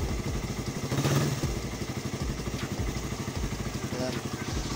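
A Suzuki Raider R150 motorcycle with a carburetor runs close by in a steady, throbbing beat. The engine holds a fairly even speed without climbing, and it has a metallic clatter on top.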